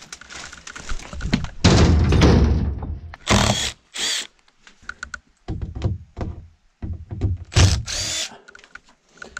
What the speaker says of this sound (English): Do you want the screw gun to remove your door?